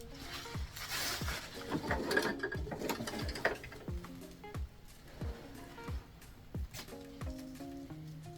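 A sewing machine stitches a small Barbie tutu, giving quiet close mechanical whirring bursts with rhythmic clicking needle strokes, pausing and restarting several times.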